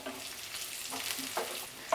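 Garlic, green chillies and curry leaves sizzle in hot oil for an aloo chilly fry, a soft, steady crackle broken by a few stirring scrapes and bursts, with no one speaking.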